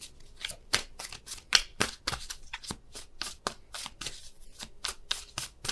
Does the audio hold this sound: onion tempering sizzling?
no